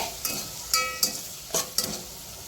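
Kanda poha is mixed in a pan with a spatula, making five distinct scraping clinks with a faint sizzle between them, close and clear.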